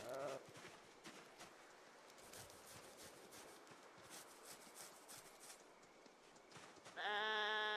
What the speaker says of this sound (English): The sheep.